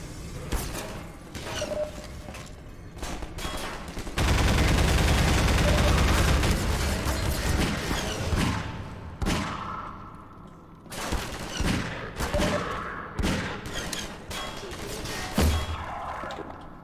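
Rifle fire in Half-Life 2 during a firefight at a barricade: bursts of sharp gunshots, then a loud sustained volley of rapid fire that gives way to scattered single shots and mechanical clatter, with faint voices underneath.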